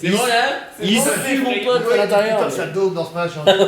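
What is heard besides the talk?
No distinct noise like a dog, phone or traffic.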